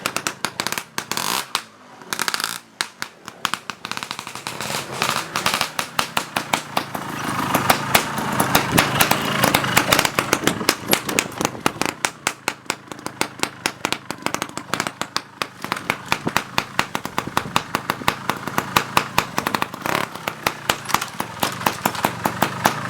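A motorcycle engine runs throughout a riding stunt lesson, with a loud, rapid, sputtering pulse that stays close and steady for the whole stretch, with no talk over it.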